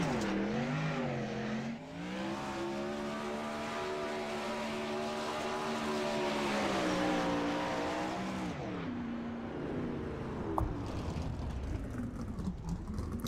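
Sprint race car engine circling Williams Grove Speedway in iRacing, a steady loud droning roar whose pitch rises and falls with the throttle through turns, with a brief tire squeal and fading engine near the end.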